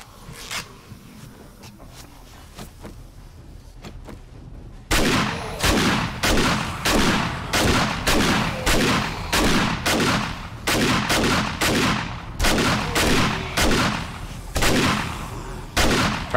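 Rapid bursts of gunfire in the survival video game 7 Days to Die during a blood moon horde, sharp repeated shots in an irregular rhythm, loud and close after a quieter opening stretch.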